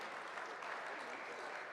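Steady, dense applause from a crowd, continuous clapping filling the room without a break.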